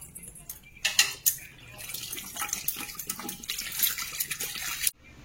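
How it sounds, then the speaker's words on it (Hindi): Water is poured and splashed to rinse a stained washbasin, a close, uneven stream of splashes and trickles with sharper slaps around the start, running steadily for several seconds before stopping abruptly. "ताले चलंतु एबे हमरो पानी ढाळी के धोइबा।"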